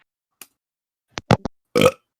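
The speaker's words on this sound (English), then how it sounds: "that was a burp of respect for his leave of" A loud, drawn-out burp near the microphone, preceded by a few short clicks and mouth noises, with silence around it.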